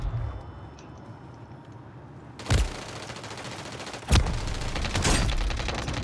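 Gunfire from a shooter game comes as two sharp bursts and a later cluster of shots against low background noise, loud and fairly close.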